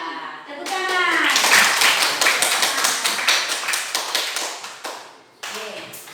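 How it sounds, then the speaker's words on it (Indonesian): Schoolchildren clap together in a classroom, a string of sharp, rhythmic unison claps close by, with a voice briefly heard at the start and a short pause before a final burst. "Tepuk tangan."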